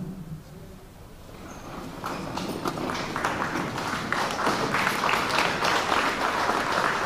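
A large audience at an Islamic Foundation of Toronto event stands and applauds, the clapping swelling from scattered claps into a loud, sustained ovation with faint voices mixed in.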